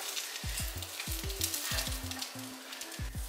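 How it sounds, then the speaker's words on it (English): A burrito fries in a warmed pan, giving a steady close sizzle, with quiet scraping and a recurring low rhythmic rumble beneath. "So I just fry it in my warmed pan here."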